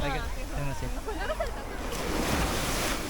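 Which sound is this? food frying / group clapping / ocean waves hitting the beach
ocean waves hitting the beach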